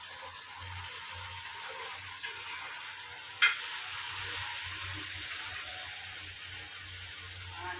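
Tomatoes go into a pan of browned onions for a ridge gourd chutney, giving a steady close sizzle of frying with faint stirring scrapes and a single sharp clink partway through.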